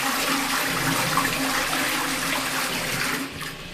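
A toilet flushes with a steady, loud rush of water close by, which eases and drops off near the end.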